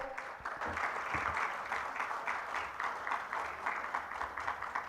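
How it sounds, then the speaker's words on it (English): An audience at a law conference on artificial intelligence applauds to welcome a speaker, a steady, even wash of many hands clapping heard from a moderate distance, fairly quiet and unbroken for the whole span. "Can we have a huge round of applause, everyone, to welcome sir."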